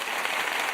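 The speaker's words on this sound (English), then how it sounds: "Clap it up for the Red Sox sweeping the" Clapping on a sports talk livestream celebrating a Red Sox sweep, a brief, dense burst of hand claps with no talking over it, lasting under a second.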